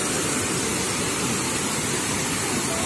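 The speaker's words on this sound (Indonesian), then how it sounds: "kita bisa mendengarkan suara deburan air sungai di bendungan ini" River water rushes over a dam, a dense, continuous roar of churning water that stays loud and steady throughout without pauses or voices.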